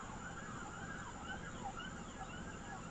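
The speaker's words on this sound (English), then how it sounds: "You hear police sirens or ambulance sirens or fire sirens or some type of siren." An emergency vehicle siren wails out of Haifa, its pitch sweeping up and down in a continuous rising and falling cycle, heard at a distance under a steady background hiss.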